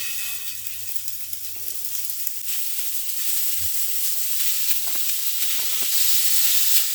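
Chicken kathi kebabs sizzle steadily on a hot tawa, a close frying hiss that swells slightly toward the end, with a few soft clinks and low hums beneath.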